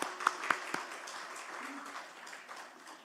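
A church congregation at a Wednesday worship service claps for the worship team, starting with a few loud distinct claps and settling into softer, scattered applause with faint voices underneath.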